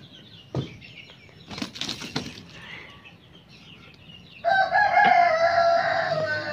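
A rooster crows loudly and close, a long ringing call arriving after a few scattered thumps and a brief flurry like flapping or scuffling.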